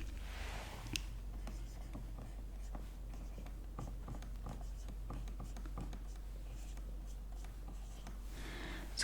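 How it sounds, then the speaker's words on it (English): Pen or pencil writing algebra on paper in a quiet room, a soft, steady scratching and tapping of strokes close to the microphone, continuous and gentle with a faint low hum underneath. "we'll write the general form with x."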